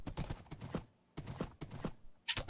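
Horse hooves clip-clop in bursts in a video game, loud and close, with short pauses between runs of steps and a brief higher sound near the end.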